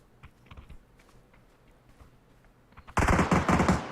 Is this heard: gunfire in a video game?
yes